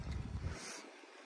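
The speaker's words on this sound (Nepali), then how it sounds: "कस्तो हावा आउँछ यहाँ" Wind rushing in a room on a trip from Pokhara to Jomsom, a steady, breathy roar with low rumbling buffeting that drops away after the first half second, leaving a softer hiss; no voices.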